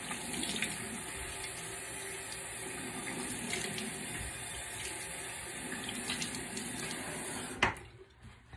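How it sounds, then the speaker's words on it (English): Tap water runs steadily from a faucet into a sink while a face is rinsed during an evening skincare routine, a continuous close splashing hiss that cuts off abruptly near the end. "now I'm gonna rinse my face off"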